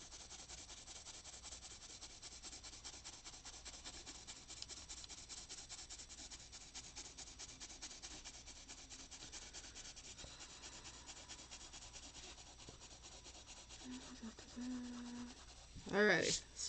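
Colored pencil being sharpened in a pencil sharpener with a dull blade, giving a steady faint grinding rasp that runs continuously, with a brief louder clatter near the end.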